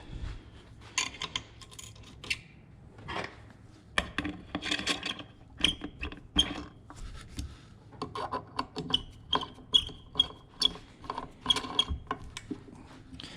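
Metal bolts and fasteners being tightened during mechanical assembly, with a run of close ratcheting clicks, scraping and small metallic taps, some bursts quick and some spaced out, and no talking.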